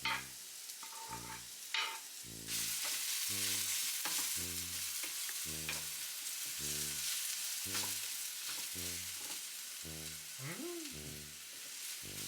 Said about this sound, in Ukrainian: Посмажити цибулю треба.